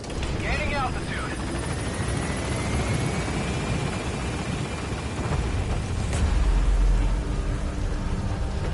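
A Metal Gear Solid V: The Phantom Pain helicopter climbs away from the landing zone, its steady broadband rotor and engine roar loud and continuous, with a brief chirping call early on and a swelling low rumble near the end.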